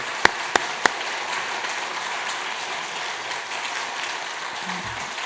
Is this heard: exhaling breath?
no